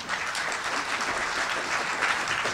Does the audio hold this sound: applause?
yes